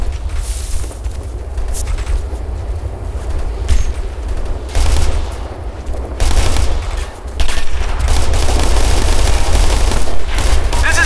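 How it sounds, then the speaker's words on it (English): Loud gunfire fills a military shooter game, Operation Flashpoint: Red River, with rapid bursts of automatic fire and sharp shots layered over a low rumbling battle bed, with soldiers' voices shouting at times. "We're under fire!"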